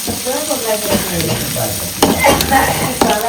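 Onions, browned until reddish, sizzle steadily in hot oil while being stirred, with periodic scraping strokes close by and a voice speaking briefly over the frying.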